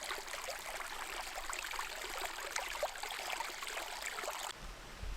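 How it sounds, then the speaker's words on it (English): Creek water flowing at a hiking trail crossing in Horn Canyon near Ojai, California, a steady close babbling rush that runs continuously with no voices. "Okay, we got the first creek crossing, what they talk about."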